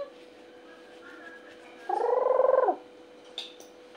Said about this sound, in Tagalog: Hay, pusa. Meow, meow, meow.